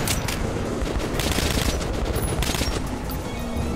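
Shotgun firing in the video game Metro Last Light, loud repeated blasts in a dense, noisy stretch of combat sound.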